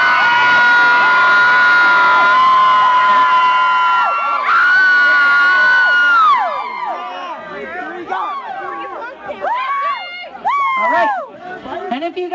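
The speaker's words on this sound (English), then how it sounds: "only cheer for the person that you want to win" A crowd at a dance contest cheers loudly for a contestant, a sustained roar of high-pitched shouting and whooping from many young voices that thins into scattered screams and calls.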